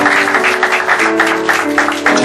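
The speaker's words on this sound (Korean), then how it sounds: "박수 한번 해주세요" A church congregation claps in a service, a lively cluster of hand claps with a sustained tone ringing underneath, fairly close and loud throughout.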